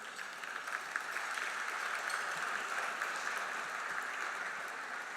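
An audience at the 2013 Science Awards gives sustained applause, a soft, even wash of clapping heard from a distance in a hall, with no voices over it.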